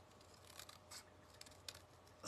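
Scissors snipping through paper to cut out hearts for a handmade card, a few quiet, crisp cuts close by against a near-silent background.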